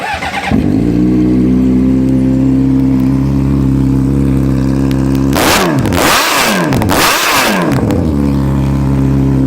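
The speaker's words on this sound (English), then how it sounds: "And let's fire her up here." A 2004 Honda CBR600RR motorcycle engine catches and settles into a loud, steady idle close by, then is blipped through two sharp revs before falling back to idle.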